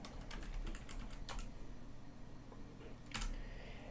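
Fingers type on a computer keyboard in a quiet room, a close, soft patter of quick key clicks in short bursts with brief pauses between them.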